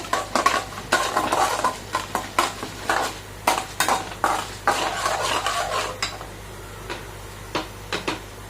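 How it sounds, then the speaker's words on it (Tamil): Mustard seeds and urad dal crackling in hot oil for wheat rava upma, heard as a rapid run of close popping and spattering bursts mixed with a few metallic pan clinks. "கடுகு உளுத்தம் பருப்பு வந்து நல்லா பொறிஞ்சு வரட்டும்"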